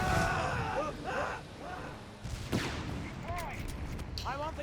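White phosphorus artillery barrage in the strategy game Company of Heroes 3, a burst of booming impacts and crackling fire layered with battlefield noise, under a steady stream of commentary.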